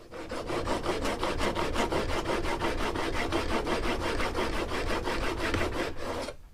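Steel blade of a roughly hundred-year-old wooden block plane rubbed flat on its back against an abrasive, a rapid steady back-and-forth rasping of even strokes, close and continuous for several seconds, then stopping.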